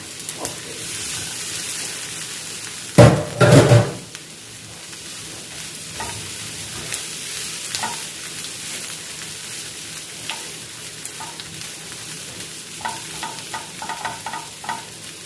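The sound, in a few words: mixing mashed potato in a frying pan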